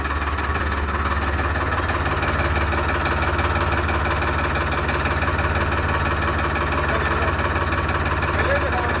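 A Farmtrac 60 tractor engine runs steadily in a special low gear, giving a continuous close diesel rumble with an even throb and no pauses, while someone talks over it.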